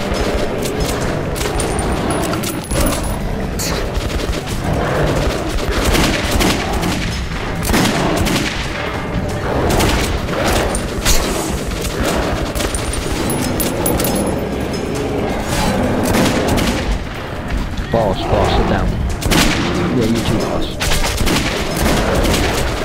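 Dense gunfire from the Metro 2033 video game: sustained bursts of rapid, loud shots and booms packed together with almost no pause, filling the whole stretch.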